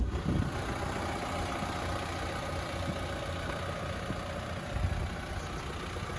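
A 2020 Chevrolet Colorado ZR2 4x4 with the Duramax 2.8 diesel idles steadily, a low continuous rumble close by with no speech over it.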